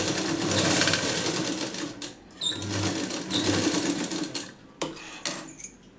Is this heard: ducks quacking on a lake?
no